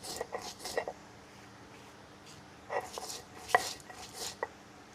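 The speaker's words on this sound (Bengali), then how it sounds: "মশলাটা একটু ঠান্ডা হয়ে গেছে আমি এবারে গুঁড়া করে নেব" Roasted spices for a green mango pickle are crushed by hand in short clusters of sharp, gritty pounding strikes, close but fairly quiet, separated by pauses.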